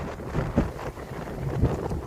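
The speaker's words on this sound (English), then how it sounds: "Oh, it's windy today." Outdoor wind in Australia buffets the microphone in rumbling gusts that rise and fall over a couple of seconds.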